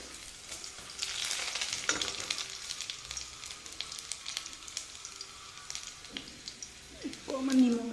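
Mashed mixture frying in hot oil for a homemade burger, a soft continuous sizzle and crackle with stirring, and a short loud burst of frying near the end.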